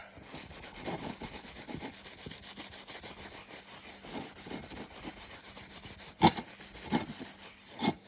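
A cloth rubs and wipes a cast iron pan dry in quiet, irregular scrubbing strokes, with a few sharper knocks of the pan near the end.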